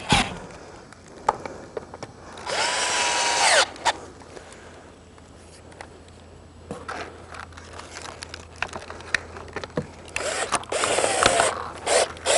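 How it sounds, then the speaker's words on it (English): Power drill driving screws into pre-drilled pilot holes during a Firebird installation, with two strong bursts of whirring drill, then quieter clicks and handling noises, and further short drill runs near the end. "Now that the pilot holes are drilled, we're going to install the screws."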